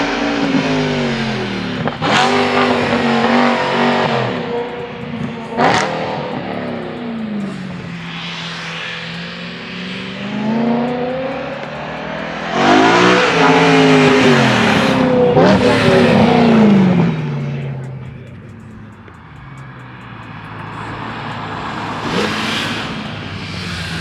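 A single-turbo BMW M3 CS passes by, loud and fairly close, revving hard with several sharp downshifts and throttle blips that rise and fall over about twenty seconds before fading slightly.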